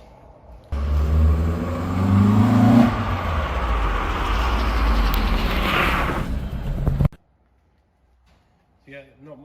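A 1979 Ford Escort RS2000 Mk2 with tuned carburettors runs up close: a loud, steady engine drone with revs rising partway through, lasting about six seconds before cutting to silence.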